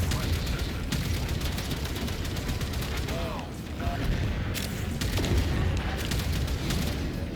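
Dense booming torpedo and artillery explosions in the space combat game Warframe rumble continuously, with rapid crackling bursts layered over a thick low roar.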